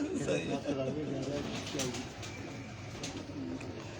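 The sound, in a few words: pigeons cooing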